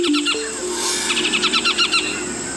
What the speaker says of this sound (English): A yellow-tufted woodpecker shares the harpy's tree.